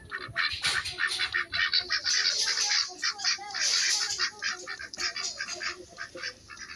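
Muscovy ducks in a pen calling in a busy cluster of repeated hissy, breathy notes and soft quacks, fairly close, with occasional wing flaps amid the chatter.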